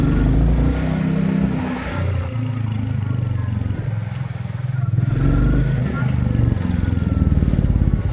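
A 2024 Royal Enfield Bullet 350 single-cylinder motorcycle being ridden, its deep thumping engine note rising and falling with throttle, close and loud, while someone talks over it.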